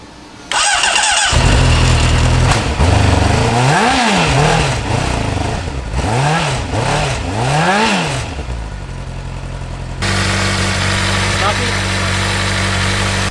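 A Honda CBR600RR motorcycle engine, on a wrecked bike being rebuilt, cranks and fires up, revs in several rising and falling bursts, then settles into a steady idle, with a person talking over it.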